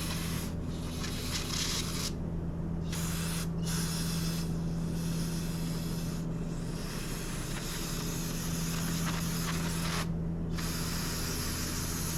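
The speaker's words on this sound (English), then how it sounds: "let me spray this magnet off so we can get this back in there." Repeated bursts of a spray bottle hiss in short pulses as cleaner is sprayed onto a transmission magnet from a 2001 Dodge Ram 1500, over a constant engine-like drone, close and fairly loud.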